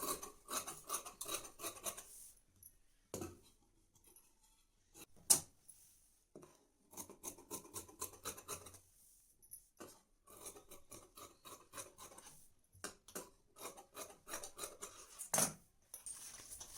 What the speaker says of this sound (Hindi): अब हम ये जो पीछे का हिस्सा है पीठ का, इसे हम डबल कपड़े पे कटिंग करेंगे। तो इस तरह से मैं कट कर रही हूँ।